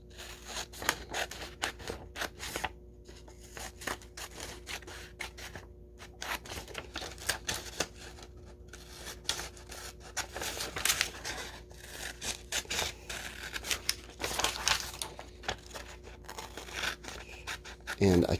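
Scissors snip steadily through a paper worksheet showing the stages of a frog's life cycle, a run of close, crisp cuts and rustles in a quiet room.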